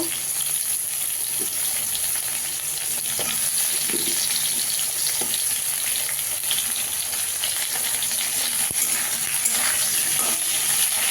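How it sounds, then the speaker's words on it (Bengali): Pointed gourd and potatoes frying in oil in a pan, a soft, steady sizzling hiss with a few faint stirring knocks, quiet and unbroken with no voices. "পটলটা দিয়ে একটু ভেজে নেব"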